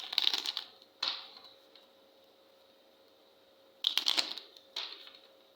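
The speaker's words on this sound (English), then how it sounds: "Let's give this card a shuffle." Two bursts of crisp, papery tarot cards being riffled and shuffled, separated by a quiet pause, close and moderately loud.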